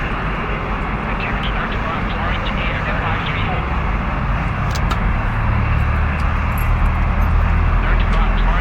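A fixed-wing airliner engine spins up in the ATC4 air traffic control game at Tokyo Narita, a loud continuous rumbling roar that holds steady and swells slightly toward the end.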